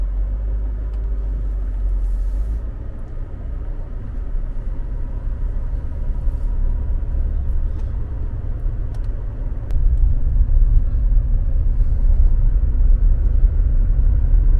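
A GM pickup truck drives forward while towing a Grand Design travel trailer. It makes a steady, loud low engine and road rumble throughout, swelling a little louder partway through.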